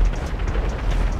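Explosions in the video game GTA 5 rumble as a dense, loud low-end roar that never breaks, one blast rolling into the next without any clear separate hits.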